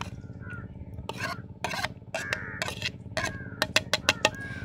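Grated boiled potatoes are mixed by hand with chopped cabbage, carrot, green chilli and coriander, making a series of close, uneven rubbing and squelching scrapes in irregular bursts, with no talking.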